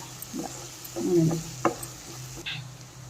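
Chili masala with salt fries in a pan, a low soft sizzle under a few scraping and tapping stirs of a spoon, close but fairly quiet.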